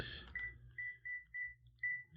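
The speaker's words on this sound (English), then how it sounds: "I hear beeping. There's a phone being used." Phone dialing beeps from a handset being dialed during a podcast: a run of short, evenly pitched electronic tones, about five separate beeps with brief gaps, clear and fairly close.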